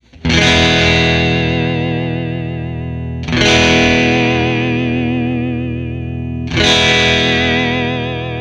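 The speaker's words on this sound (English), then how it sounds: "every time I press that pedal and hold it, it immediately introduces that vibrato" A Behringer UV300 vibrato pedal set to a stark depth wobbles a strummed electric guitar chord, struck three times at even intervals and left to ring loud with a pronounced pitch warble, no voices.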